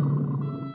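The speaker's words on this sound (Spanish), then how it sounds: "el león sí vio a los dos bribones y soltó un gran rugido" A lion's roar used as a sound effect in a children's story, one short, loud, sustained growling burst heard alone.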